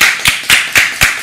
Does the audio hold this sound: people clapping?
yes